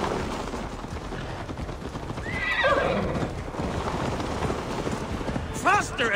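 Hooves pound in a fast gallop in Assassin's Creed Valhalla beneath steady outdoor noise, with a horse whinnying partway through and again near the end.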